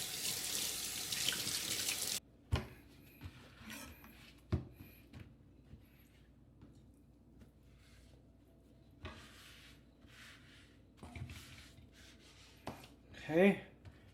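Tap water runs into a sink for a couple of seconds while skinned salmon is washed, then cuts off, leaving faint handling clatter and a person talking quietly.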